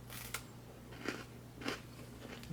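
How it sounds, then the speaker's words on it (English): Dry, crisp crunches come from someone biting and chewing dehydrated, freeze-dried 1995 MRE chili and macaroni. About four quiet, brittle bites are spaced evenly over a steady low background hum, with no talking. "Gives you that initial crunch and then it just kind of starts melting away."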